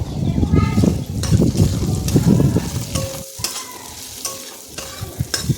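Spices frying in a pan are stirred vigorously, with loud, close scraping strokes over a constant sizzle that grows quieter and more broken in the second half.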